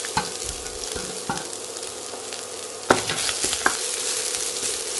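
Dried chillies and grated coconut stir-fried in a pan, a constant close sizzle punctuated by sharp scrapes and knocks of the spatula against the pan at irregular intervals.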